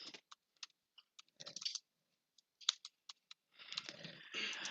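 Typing on a computer keyboard while entering text into a slide, scattered quiet key clicks with short pauses, then a denser run of keystrokes near the end.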